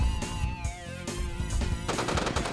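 Dense machine-gun fire hammers a large base in the Red Alert 2 strategy game, with loud, continuous rapid shots and a harsher burst near the end.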